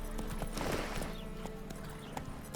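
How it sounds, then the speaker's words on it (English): Hooves clip-clop at a steady gallop as a horse runs in The Witcher 3 video game, a continuous rapid patter with faint background noise and no talking. "Run, Roach."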